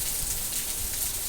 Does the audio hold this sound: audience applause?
no